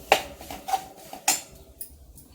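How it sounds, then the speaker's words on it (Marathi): A spoon clinks against a pan a few times while a spoonful of ghee goes in for a roasted chana laddu syrup, with three sharp metallic taps close by and soft kitchen hiss between them. "मी चमचाभर तूप टाकते"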